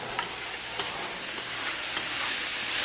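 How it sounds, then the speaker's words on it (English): Chicken pieces for a garlic pesto pita sizzle steadily in a pan, with a few soft scrapes of a utensil stirring them at regular intervals; continuous close frying hiss throughout, no voices. "stir this some more"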